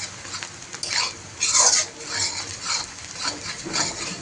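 Whole spices (split cardamom pods, black peppercorns and bay leaves) being stirred gently in a pot for mutton curry, with soft scraping and rubbing strokes of a spoon against the pan, moderately close.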